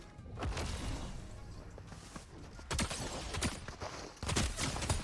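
Gunfire in Fortnite Zero Build, bursts of rapid shots arriving in three clusters separated by brief lulls, punchy and near, over a faint game background with no voices.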